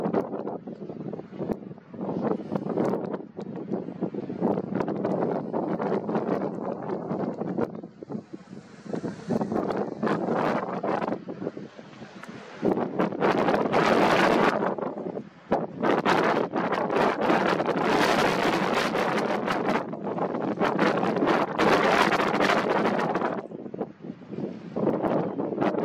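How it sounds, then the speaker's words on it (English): Strong wind buffets a microphone outdoors near the sea at Gibraltar, loud gusty roaring that swells and drops in uneven surges for the whole stretch, with no talking. "The wind."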